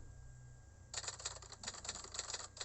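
A typewriter typing sound effect from the CapCut app gives a quick run of crisp mechanical key clacks after a short quiet start, steady and close.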